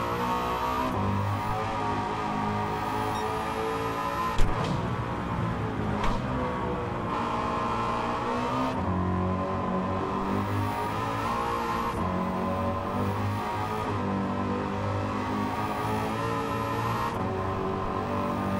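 Car engine in the racing game Gran Turismo 7, a steady loud drone with shifting pitch through the whole stretch, broken by a couple of brief sharp knocks, with no talking.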